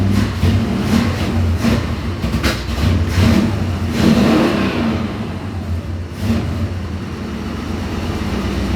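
A carbureted car engine revs up and sags unevenly, its rumble loud and close with throttle blips and wavering roar throughout, no voices.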